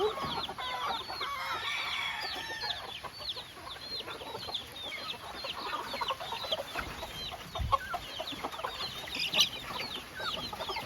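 Many chickens cluck and chatter at once, a busy overlapping flock sound, with brief louder squawks standing out near the end.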